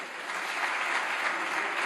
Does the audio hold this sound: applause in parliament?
yes